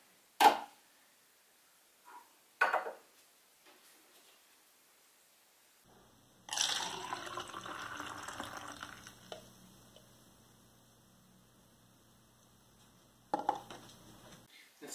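Milk is poured into ginger ale in a glass, with a few light clinks, then several seconds of soft fizzing hiss that fades away, and one more brief clink near the end.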